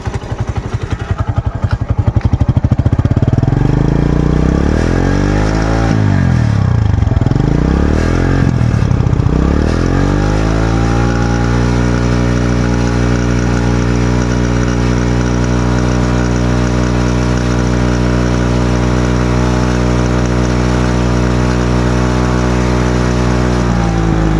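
A 2017 TVS Sport motorcycle engine revs hard a few times with rising and falling whines, then settles into a loud, steady idle, with no voices.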